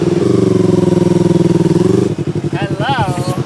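A motorcycle engine, someone's new bike, putters with a steady rhythmic low chug up close, then turns choppier as a voice starts speaking over it.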